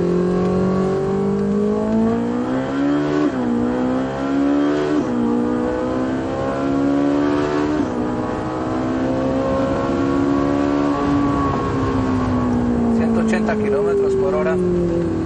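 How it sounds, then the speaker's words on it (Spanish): A Ferrari 458 Italia V8 revs hard and accelerates, its engine note climbing and falling through repeated gear changes, loud and close throughout, with someone talking over it. "el sonido de este motor es mejor que todo lo que ahora les puedo decir"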